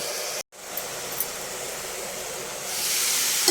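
Onions and black-eyed peas sizzle steadily in a pan, a broad close hiss that drops out for a moment near the start and then swells slightly louder toward the end.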